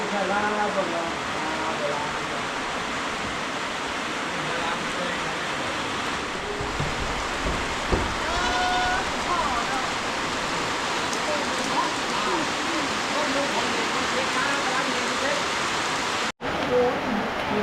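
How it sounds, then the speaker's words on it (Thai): Steady rain pours down outdoors in a constant dense hiss, loud and unbroken throughout, with occasional faint voices and small knocks beneath it. "ฝนตกนะ"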